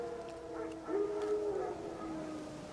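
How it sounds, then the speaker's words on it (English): Wild dogs in The Witcher 3 give a single faint, distant drawn-out howl, alone against quiet background ambience. "No. Wild dogs. Yes. More dangerous than wolves."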